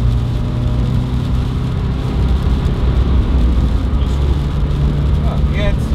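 Mitsubishi Colt CZT with a 1.5 turbo engine pulling hard at full throttle in fifth gear from about 100 km/h, a steady loud cabin drone of engine and road noise throughout, with voices talking over it.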